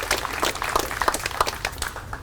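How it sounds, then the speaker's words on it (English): A crowd at a city hall event applauds a racing team owner, the clapping moderately loud and uneven with distinct individual claps standing out across the short burst. "Let's give him a round of applause."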